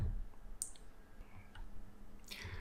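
Computer mouse clicks while opening a website link, a few sharp short clicks close up against faint room hiss.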